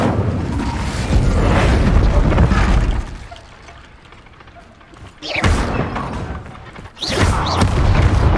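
The Incendio fire spell from Hogwarts Legacy sounds as a loud, deep whooshing burst that rumbles for a few seconds. It dies down, then returns as sharper blasts with crackling bursts near the end.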